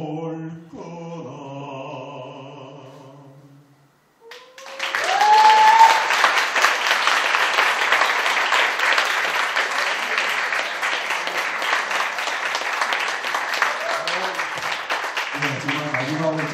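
An audience at a Korean book concert breaks into sustained, loud applause after a sung piece ends. The singing fades out first, then the clapping runs steadily for about ten seconds and tapers as a voice returns.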